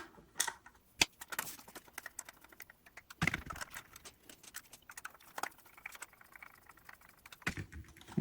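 Tiny screws are driven into a Via Rail model passenger train car, producing quiet, scattered clicks and ticks at close range, irregularly spaced.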